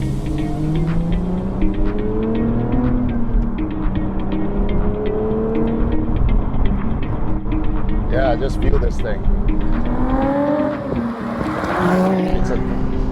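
Lotus Evora GT sports car driving, its steady engine drone and shifting harmonics continuous from inside the cabin while someone talks over it throughout.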